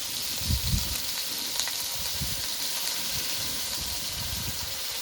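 A paste of ginger, garlic, onion, cumin and chilli sizzles in hot oil with tomatoes, a steady moderate frying hiss with low bubbling thumps and occasional stirring, no voices.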